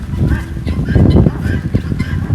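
Loud, close clucking and harsh squawking calls from a flock of white guinea fowl and chickens on a farm, overlapping in a busy, continuous chorus.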